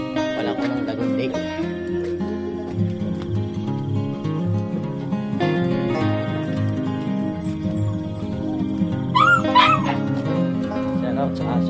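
A dog yips, barks and whimpers in short high bursts amid a busy background of voices and tonal sounds.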